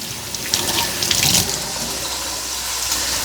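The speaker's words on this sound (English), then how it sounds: "So I want to rinse them off really good." Tap water runs steadily from a kitchen faucet as fresh tomatoes are rinsed under it, a close, continuous splashing hiss with slight swells where the stream hits the fruit.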